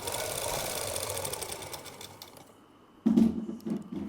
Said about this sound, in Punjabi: ਵਿੱਚ ਲੈਸ ਦੇ ਲਈ ਆਪਾਂ ਹੁਣ ਇਹ ਸਲਾਈ ਲਗਾ ਲੈਣੀ ਆਪਾਂ